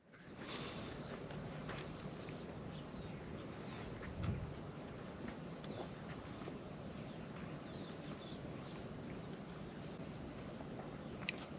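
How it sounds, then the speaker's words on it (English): Steady, shrill African cicada drone on Table Mountain, Cape Town, holds one high pitch throughout, loud and continuous, with faint rustling and a few soft thumps underneath. "I love the sound of African cicadas."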